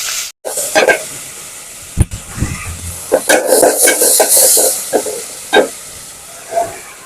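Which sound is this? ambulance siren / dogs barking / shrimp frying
shrimp frying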